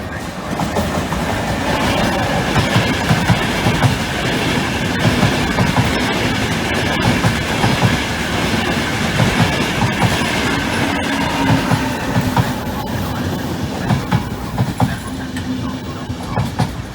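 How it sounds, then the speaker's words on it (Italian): A regional passenger train rolls past on the rails between Milano Rogoredo and Lambrate in a loud, close, continuous rumble, with rhythmic clickety-clack from the wheels and a brief thin squeal. "Il treno regionale"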